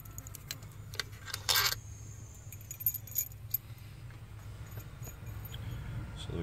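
Loose 8mm intake bolts come out of a Mazda Tribute engine with light metallic clinks, taps and small rattles, one brief louder scrape early on, all quiet and close, with no talk.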